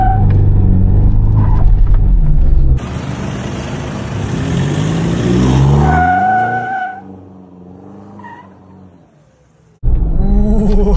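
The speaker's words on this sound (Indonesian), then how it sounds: "Cobain plongnya suara knalpot baru guys." A Toyota Fortuner diesel with a newly fitted exhaust drives off and accelerates with a loud, rough roar, then eases to a quieter rumble before the engine noise surges back near the end.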